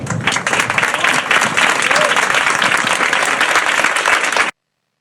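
An audience bursts into loud, dense clapping that holds steady for several seconds and then cuts off abruptly.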